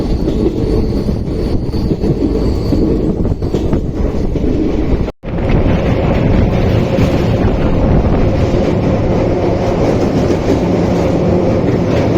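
The Wodeyar Superfast Express rolls past near Srirangapatna as a loud, continuous rumble with clattering wheels and heavy wind buffeting, broken by one brief dropout midway.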